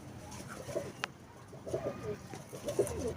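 Teddy pigeons coo softly and repeatedly at close range, a low burbling series over quiet background noise with a brief sharp click.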